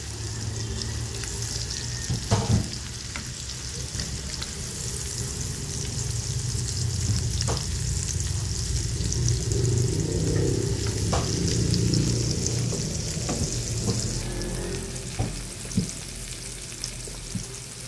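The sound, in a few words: sautéing onion and garlic in butter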